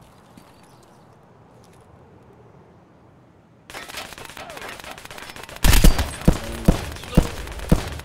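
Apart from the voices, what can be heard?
gunfire in Escape from Tarkov video game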